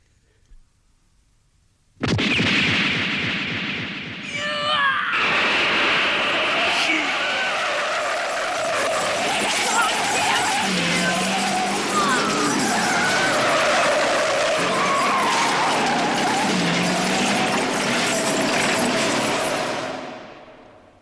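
A runaway Mack truck in an anime scene bursts in after a short silence with a loud, sustained roar and screeching, the tire squeal and engine noise staying intense and continuous for well over fifteen seconds before cutting off.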